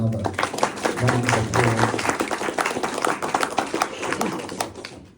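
Audience applause at a talk, a dense steady wash of many hands clapping that fills the room loudly from start to finish without letting up.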